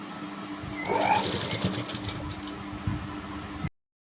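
Sewing machine stitching piping onto a katori blouse, a quiet close whirring run with rapid needle clatter that swells briefly, then stops abruptly.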